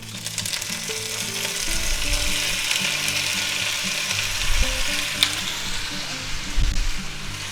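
Onions with red and green peppers are stir-fried in a pan, giving a continuous close sizzle with repeated rattling, scraping strokes of a utensil against the pan and a few louder knocks, with no voices.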